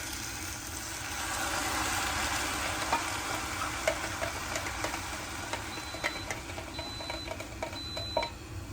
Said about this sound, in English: And I'm going to add in my coconut milk.